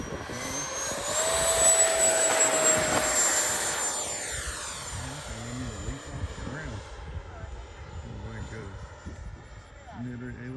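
An FMS Rafale 80mm electric ducted fan model jet on its maiden flight, its high turbine-like whine swelling as it passes overhead, then fading and shifting in pitch as it flies off, with steady outdoor background noise.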